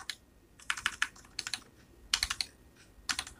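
Typing on a computer keyboard while entering data into accounting software, clusters of quick, crisp key clicks in short bursts separated by brief pauses, close but fairly quiet with no voices.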